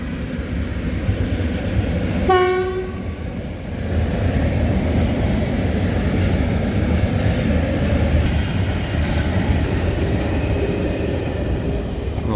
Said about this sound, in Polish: to był pociąg typu jedzie raz na dzień i akurat musiał teraz